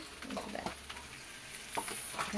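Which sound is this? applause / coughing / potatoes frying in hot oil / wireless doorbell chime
potatoes frying in hot oil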